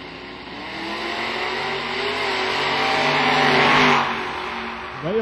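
A 1996 Pontiac Firebird and a Ford Mustang drag racing, engine roar building steadily and loudly before easing off, with a brief rising rev at the end.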